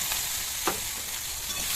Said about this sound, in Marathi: तर शेंग दिलेली सगळी आपण भाजून घेऊया कढईमध्ये